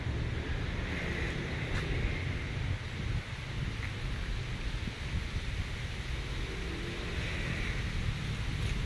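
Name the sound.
wind blowing outdoors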